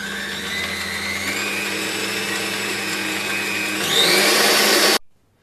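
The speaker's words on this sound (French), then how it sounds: "Et on va commencer à pétrir tout doucement." Bread dough for garlic-style cheese bread being kneaded slowly by a machine, a steady motor whir with low hum that rises in pitch and loudness near the end before cutting off abruptly.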